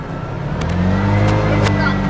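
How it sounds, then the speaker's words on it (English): A car moving along a busy road is heard from a rickshaw (keke), with a steady mid-range engine drone that swells slightly, and faint talk in the background. "See, there's a car."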